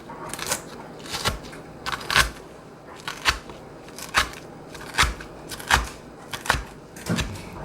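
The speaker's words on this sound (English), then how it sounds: "off camera here, I am just really chopping these greens small" Greens being chopped into small pieces with a knife on a board, a steady series of crisp close chops at roughly even intervals, with no talking over them.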